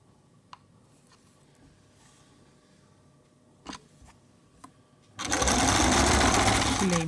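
A sewing machine stitching a long kameez runs in a loud continuous burst near the end, after a quiet stretch with a few small clicks and handling sounds.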